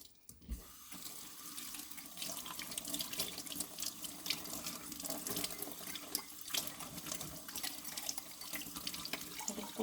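Tap water runs steadily into a sink while a washed mug is rinsed, a continuous close splashing rush with small clinks and drips.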